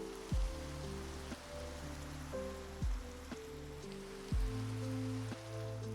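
Steady Minecraft rain hisses evenly throughout, a soft continuous wash running beneath gentle, sustained game music notes, with no talking.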